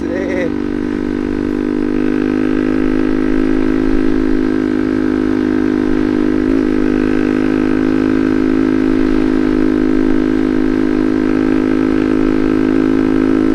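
A lightly modified standard motorcycle engine runs at a steady idle, loud and close-up, with an even, throbbing hum that holds nearly unchanged throughout, apart from one small blip partway through.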